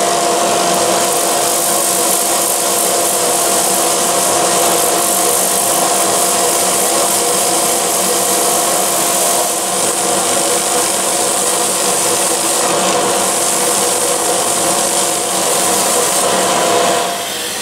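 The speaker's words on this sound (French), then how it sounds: "un petit coup de ponçage" Sandpaper rubs against a spinning apple wood bowl with square rims on a wood lathe, a loud, continuous, hissing abrasive roar that holds steady for the whole stretch with no voices.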